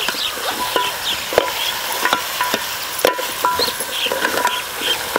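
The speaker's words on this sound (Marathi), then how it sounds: "मस्त असं हा मटण आहे ना आपल्याला हलवून घ्यायचं ही" Mutton frying and being stirred in a pot on a wood-fired stove, with steady sizzle broken by repeated scraping and knocking strokes of a spoon, close and fairly loud, no talking.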